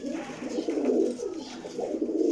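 Pigeons in a coop give low, rolling coos in overlapping waves, close and moderately loud, continuous across a couple of seconds with faint background noise.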